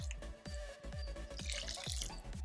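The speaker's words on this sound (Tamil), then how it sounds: "இதில் இப்போ வெங்காயம் முழுகிற அளவுக்கு தண்ணி சேர்த்துக்கலாம்." Water splashing and dripping into a cooking pan of onions in a quick, uneven series of drops, close and fairly loud, with no voices.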